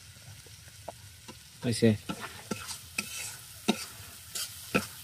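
Green chilies sizzle softly in hot oil while a spoon scrapes and stirs the pan in irregular strokes, with a brief spoken word in the middle.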